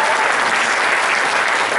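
An audience breaks into applause, a dense, even wash of many hands clapping at once, loud and continuous for the whole stretch with no voices on top.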